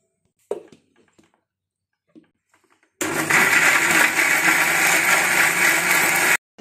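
A mixer grinder grinds masala for a chicken curry, starting abruptly after a few soft clicks and handling sounds, then running as a loud, steady whirring roar for about three seconds before cutting off.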